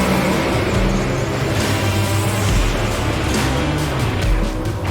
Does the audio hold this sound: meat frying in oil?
no